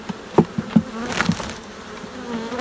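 Honeybees buzz around a beehive kept by a beekeeper with thirty hives, a close droning hum with passing individual bees and a few soft knocks.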